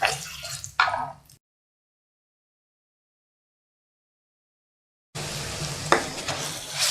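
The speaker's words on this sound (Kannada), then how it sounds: "ಸಾಸಿವೆ ಜೀರಿಗೆದು ಹಸಿ ಘಮ ಹೋಗೋವರೆಗೂ ಇದನ್ನು ಚೆನ್ನಾಗಿ ಫ್ರೈ ಮಾಡ್ಕೋಬೇಕು" A ground spice paste with mustard and cumin seeds sizzles and is stirred in a pan for raw mango poha, in two short bursts of frying and scraping with a long silent gap between.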